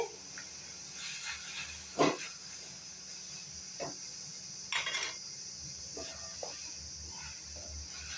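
Mint leaves sauté in a pan with salt for a mint chutney (thuvaiyal), giving a faint, steady sizzling hiss with a few soft clinks and scrapes.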